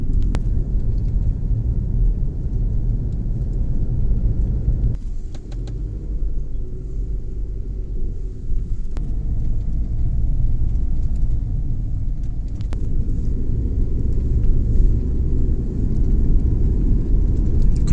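Road traffic on the George Price Highway in Belize during the wet season: a steady, close engine rumble with vehicles passing in waves and brief dips between them, and no talk.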